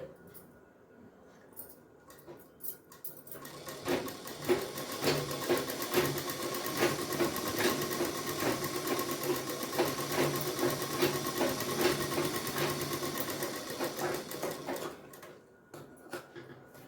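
A sewing machine runs one long steady stitching pass along a seam, its rapid even needle chatter rising in after a few quiet seconds, holding for about eleven seconds, then stopping; close and alone.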